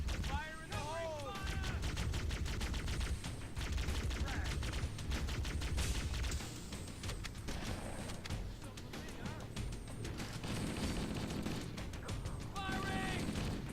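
Sustained gunfire from the Halo CE level 343 Guilty Spark, a dense battle with Marines, with repeated shots and bursts running throughout at steady loudness, mixed with game music, effects and character shouts.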